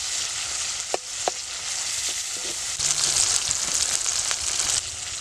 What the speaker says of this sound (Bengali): টমেটো আর পেঁয়াজটা একসাথে ভালো করে ভাজতে হবে